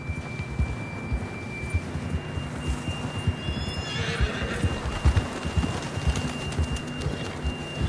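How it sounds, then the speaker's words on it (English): A horse in Red Dead Redemption 2 clip-clops at a steady pace, snorting and whinnying, close up over a faint outdoor background. "John was riding that horse when we left Blackwater."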